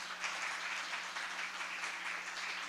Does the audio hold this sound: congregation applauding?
yes